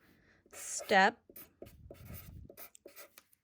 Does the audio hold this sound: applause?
no